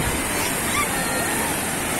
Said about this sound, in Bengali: ওয়াও, ঢেউ দেখুন